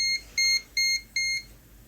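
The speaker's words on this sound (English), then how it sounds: "Whoops, it's my multimeter doing something." A multimeter, in use while fault-finding a Lexmark T522 printer, gives four short, evenly spaced electronic beeps, clear and close in a quiet room.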